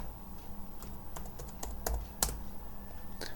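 Typing on a computer keyboard, with irregular bursts of quick key clicks and a few louder presses, close and fairly quiet, while entering login details for a Django setup.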